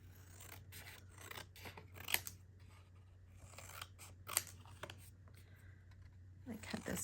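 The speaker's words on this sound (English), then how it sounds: "I cut this card down a little." Scissors snip through card while making junk journal ephemera, a series of close, crisp cuts and rasping paper rubs at irregular intervals over a quiet hum.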